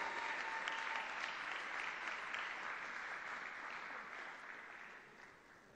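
An audience applauds at a scholarship ceremony held by a charitable foundation, a steady, fairly faint roar of many hands clapping heard from a distance, fading slightly toward the end, with no talk over it.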